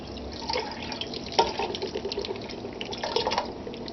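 Natural Light beer is poured from a can into a cooking pot over corned beef, a steady splashing liquid stream lasting several seconds with a few louder gurgles.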